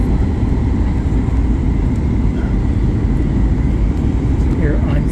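A Boeing 737 MAX 8 on final approach into Chicago O'Hare, gear and flaps down, gives a constant loud, low cabin roar of engine and airflow rumble, steady throughout with a voice briefly audible.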